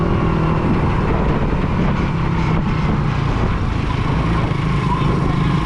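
A passenger tricycle's small motorcycle engine drones steadily and loudly nearby, a continuous rough rumble filling the whole stretch without a break.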